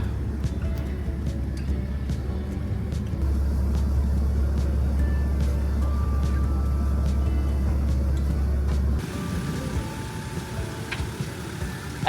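A vehicle engine strains to pull a car out of floodwater in Mfuwe/Mambwe, Zambia, a steady low drone that shifts pitch partway through and then eases off near the end, with no talk.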